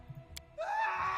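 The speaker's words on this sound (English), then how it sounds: "a scream echoes from the hallway." A scream echoes from a castle hallway in the Pathfinder: Kingmaker video game. After a few soft knocks, a thin, rising, sustained cry sets in and carries on, faint and reverberant, to the end.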